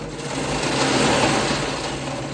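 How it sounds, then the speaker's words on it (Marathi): A sewing machine hums continuously at close range as it stitches along the edge of a layered baby quilt, a steady, even whir with no pauses. "एक साईडने या गोदडीला मी आता टिप मारत आहे"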